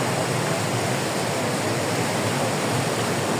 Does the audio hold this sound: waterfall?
yes